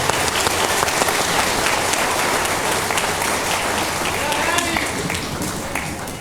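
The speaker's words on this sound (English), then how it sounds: "let's give them a round of applause for doing that" A school band concert audience applauds the fifth grade band at a pasta dinner concert, a dense, steady wash of clapping from many hands that fills the room evenly from start to finish, with murmured voices mixed in.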